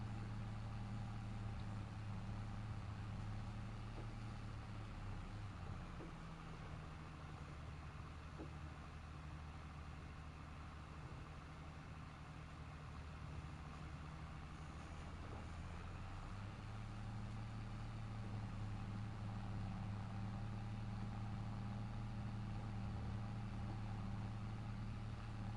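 Farming Simulator 22 tractor engines hum steadily on the Iowa plains map, a low continuous drone that dips and rises in pitch partway through and then settles back.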